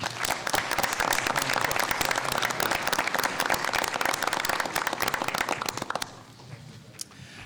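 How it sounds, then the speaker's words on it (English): An audience at a Wyoming House Education Committee hearing breaks into dense, steady applause that holds for about six seconds, then thins out to a few scattered claps before fading. "Let's give them a round of applause."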